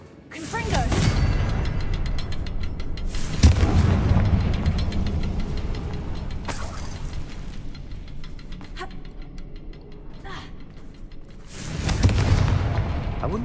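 Booming blasts from the Confringo explosion spell in a Harry Potter video game, a sharp burst near the middle and another swelling toward the end over a steady rumbling game soundscape with talk.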